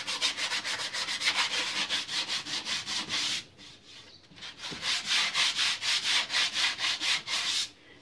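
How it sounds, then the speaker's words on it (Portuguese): Hand sanding a repaired vase with 80-grit sandpaper meant for iron: quick rhythmic rasping strokes, close and loud, a brief pause near the middle, then the even back-and-forth scraping resumes. "Eu tô usando aqui uma lixa, é a lixa que eu uso para tudo, né? Lixa 80 para ferro, certo?"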